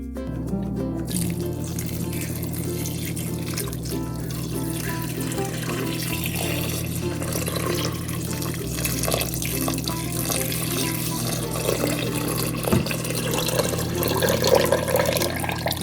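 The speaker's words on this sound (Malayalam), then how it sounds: "ഇതിലേക്ക് 4 കപ്പ് വെള്ളം ഒഴിക്കാം." Water from four cups is poured steadily into a pot of spiced nombu kanji seasoned with garam masala, cumin and salt, a continuous close splashing and gurgling stream that runs unbroken throughout.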